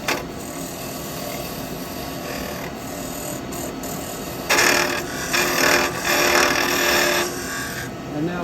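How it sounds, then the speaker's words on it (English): A hollowing tool cuts into a yew lidded pot spinning on a lathe, giving a steady close rasping whir that grows louder and rougher in bursts toward the end. "So as you can see, it's real controlled hollowing"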